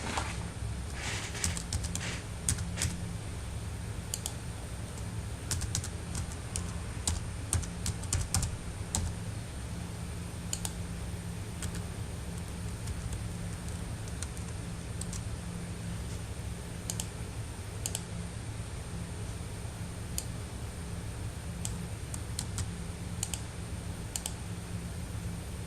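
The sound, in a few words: typing on a computer keyboard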